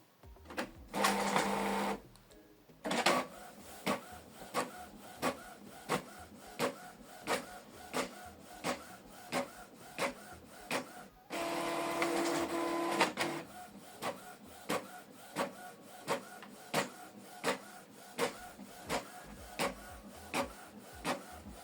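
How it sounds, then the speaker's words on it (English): A Canon Pixma TS7550i inkjet printer printing a two-sided document: quiet rhythmic mechanical clicks and ticks from the paper feed, broken by two longer whirring passes, heard close with no talk. "This is the document we scanned and printed it out two-sided"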